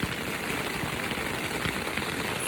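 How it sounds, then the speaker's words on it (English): Hail falling on a backpacking tent near alpine lakes during a thunderstorm, a steady, dense patter of close hits on the fabric. "It's hailing."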